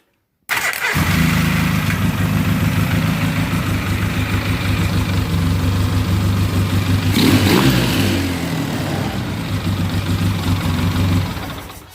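A neglected Polaris Sportsman 700 ATV engine cranks and catches abruptly, then idles loud and close with a steady chugging rumble, gives one brief rev in the middle, and settles back before cutting off at the end.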